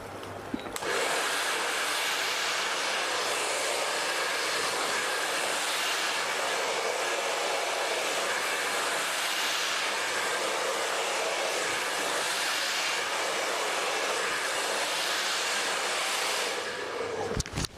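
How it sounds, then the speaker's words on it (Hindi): A hair dryer blows steadily and loudly on curly hair being brushed out, a continuous close roar that holds unbroken for almost the whole stretch with no voices. "अच्छे से ड्रायर करेंगे दोनों साइड"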